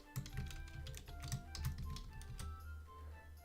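Fast bursts of clicky keystrokes on a computer keyboard, close and fairly quiet, with rapid irregular taps for a couple of seconds before fading into stillness.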